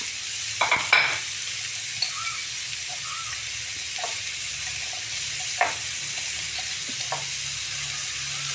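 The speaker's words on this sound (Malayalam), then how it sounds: "സവാള കൊത്തി അരിഞ്ഞത് ഇത്രയിട്ടൊന്ന് വഴറ്റി കൊടുക്കാം. നന്നായിട്ട് വഴറ്റി കൊടുക്കണം." Chopped onion sautés with salt in a hot pan for egg bhurji, giving a steady, close sizzle and hiss with occasional light clicks of stirring, and no talking.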